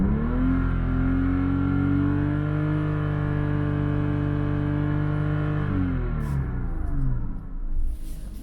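Porsche Cayman engine held at high revs near 6,000 RPM for a loudness check, a loud, close, steady harmonic drone that sags and drops back toward idle near the end, with no talk.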